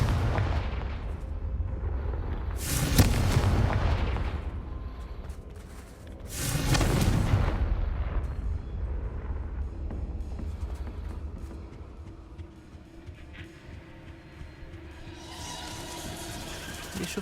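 Confringo fire spell blasts in the Hogwarts Legacy video game: two loud booming explosions with crackling bursts a few seconds apart, over a steady rumbling game ambience.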